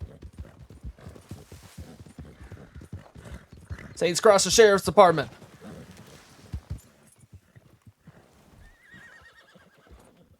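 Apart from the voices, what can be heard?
horse hooves and whinny in RedM video game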